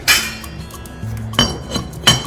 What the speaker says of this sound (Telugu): ఇప్పుడు ఇది మూత పెట్టేసి